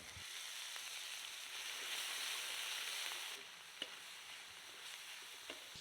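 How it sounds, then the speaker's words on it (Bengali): Onion, garlic and cumin paste frying in hot oil gives a steady, bright sizzle that eases slightly midway, with a few faint stirring clicks and no talking. "এখন এই তেলের মধ্যে দিয়ে দিব পেঁয়াজ বাটা রসুন বাটা আর জিরা বাটা"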